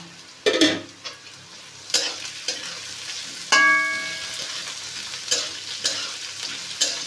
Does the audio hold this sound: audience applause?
no